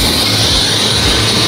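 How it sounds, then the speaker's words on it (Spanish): A helicopter in flight roars loud and steady from inside the cabin, a dense continuous engine and rotor drone with no pauses. "Tercera vez en mi vida que me subo a un helicóptero."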